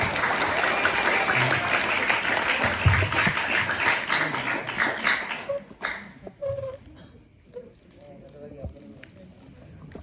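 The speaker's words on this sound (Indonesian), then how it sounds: "Oh ya, tepuk tangan dulu, tepuk tangan." An audience applauds during an Indonesian talk about character, with loud dense clapping for about five seconds before it breaks up into scattered claps and quieter room sounds.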